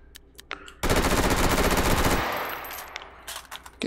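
A long, loud automatic burst from a drum-magazine gun in the VR shooter Hot Dogs, Horseshoes & Hand Grenades, preceded by a few mechanical clicks and followed by scattered handling knocks.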